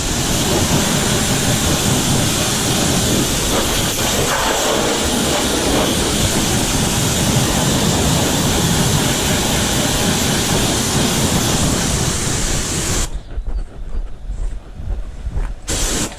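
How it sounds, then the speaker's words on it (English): A pressure washer jets water onto car wheels in a loud, continuous hissing spray that holds steady for about thirteen seconds, then cuts off and leaves a quieter, uneven patch of sound. "I'm just going to quickly jet wash them all off while Adam's just busy cleaning the rest."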